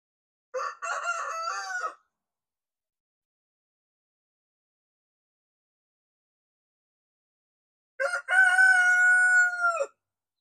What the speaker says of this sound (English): These are buff Warpington chickens.